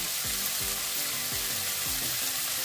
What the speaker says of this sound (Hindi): आनी हे सगळे सॉटे करतली